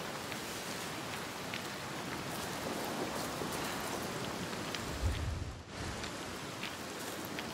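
Steady, dense rainfall hisses evenly throughout in Senua's Saga: Hellblade 2, with a brief low thump partway through.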